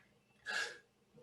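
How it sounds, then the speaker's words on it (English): A single sharp sneeze bursts out close to the microphone, brief and loud against a quiet room. "I feel like I'm going to sneeze."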